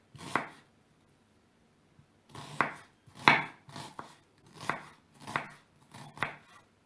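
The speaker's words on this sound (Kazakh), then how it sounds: "пиязымызды турап салып қойдық" A knife finely chops onion on a board, with seven crisp separate strokes in an uneven rhythm, close and fairly quiet, with no talking.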